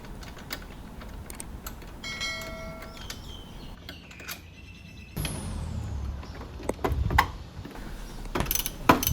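Metallic ratchet clicks, short clanks and scraping come in bursts while a ten-millimetre wrench loosens nuts on the rear shock mount of a Lion F9 electric bike being fitted with a YSS Top Plus 280mm shock.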